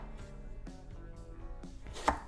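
A knife dices eggplant on a board, giving a few sharp chopping knocks at uneven intervals beneath steady tonal background music.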